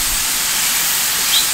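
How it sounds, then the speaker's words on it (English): A pot of water at a steady boil on a kitchen stove before tortillas are made, giving a continuous soft hiss with no talk. "water is boiling"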